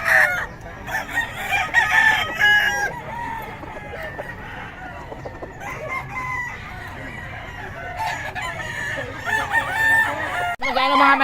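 Several roosters crow loudly and repeatedly at an outdoor market, their calls overlapping with clucking amid a busy, noisy background.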